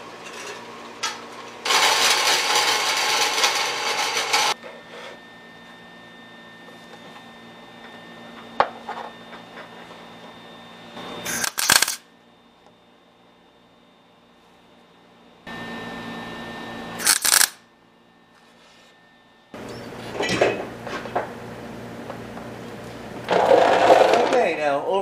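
Hard material, likely sheet metal for a 1976 Mazda RX front suspension and rack-and-pinion conversion, is cut along a traced outline in loud, sustained bursts of harsh power-tool noise separated by quieter gaps.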